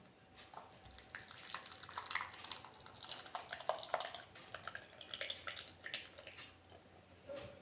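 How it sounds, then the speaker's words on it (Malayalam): Curdled milk for rasgulla is poured through a cloth towel, giving a soft, continuous trickle and patter of draining liquid with scattered drips, close and quiet, without speech. "അതിലേക്ക് നമുക്ക് ഈ പിരിഞ്ഞ പാൽ ഒഴിച്ചു കൊടുക്കാം"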